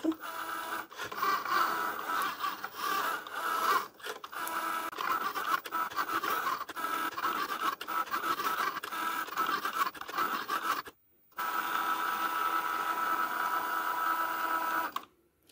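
Cricut Joy cutting machine making a second cutting pass through Bristol paper, a close, continuous mechanical whir and scratchy drag with small rhythmic shifts and one brief pause before it resumes.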